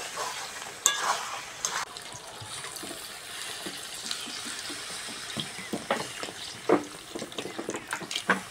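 Water poured into a pan of chicken curry frying with spiced oil, with clattering stirring strokes and sizzling under a steady hiss, close by and with no voices.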